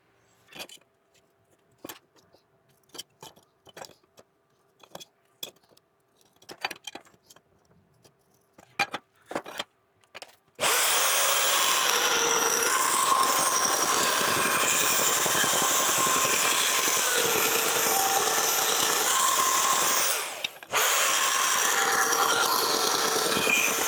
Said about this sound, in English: I'm gonna mark this in such a way that I can cut this on the bandsaw